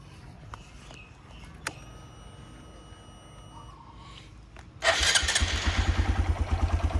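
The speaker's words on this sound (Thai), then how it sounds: "ฟังเสียงเครื่องนะครับ" A few faint clicks and low rumble, then a Yamaha MSX125 motorcycle engine fires up loudly and settles into a fast, chugging idle.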